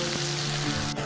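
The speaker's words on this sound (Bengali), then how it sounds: "ভালো করে নাড়তে থাকবো আমরা, যতক্ষণে ভালোভাবে ভাজা হচ্ছে" Onions fry in oil for chicken rezala, a close, steady sizzle with a low hum behind it and a soft stirring scrape.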